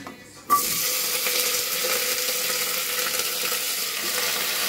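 Panch phoron seeds hit hot mustard oil with a sudden loud sizzle that settles into a steady, close crackling hiss.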